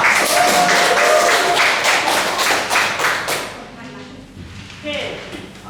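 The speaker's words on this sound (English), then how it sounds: "Everyone, give them a round of applause." An audience claps for a presenting team in a classroom-style session, with sharp separate claps in a quick, uneven rhythm for about three seconds before they die away into quieter room sound and a faint voice.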